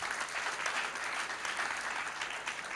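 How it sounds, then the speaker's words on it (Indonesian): Church congregation applauding in praise of God during a sermon, a dense, steady wash of clapping from many hands filling the room without pause. "Mau beri tepuk tangan buat Tuhan."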